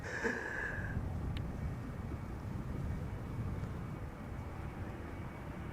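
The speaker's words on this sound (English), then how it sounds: "A321neo coming in from Montreal, Air Transat flight 324" Air Transat Airbus A321neo on approach to land at Schiphol's Polderbaan, a steady low distant jet rumble with a constant engine drone and no voices.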